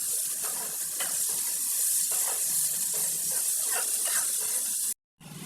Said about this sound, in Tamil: நல்லா வதக்கிடணும்.